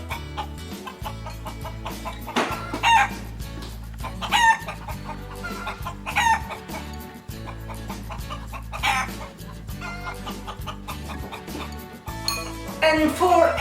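Chickens cluck repeatedly nearby in a home kitchen during baking, with occasional clinks of dishes and a person talking over the clucking throughout.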